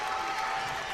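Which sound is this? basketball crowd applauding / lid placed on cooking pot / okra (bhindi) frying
basketball crowd applauding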